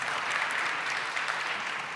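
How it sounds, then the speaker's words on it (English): A debate audience breaks into sustained applause, a dense, steady wash of many hands clapping at fairly close range with no talking over it. "You want to clap? Do it."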